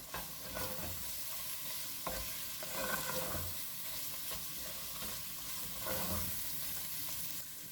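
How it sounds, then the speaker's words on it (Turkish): Tomato paste sautéing in a pan alongside sliced sucuk sausage for bean stew, a continuous close sizzle with repeated stirring scrapes every second or two and no voices. "Salçayı da güzelce kavurdum."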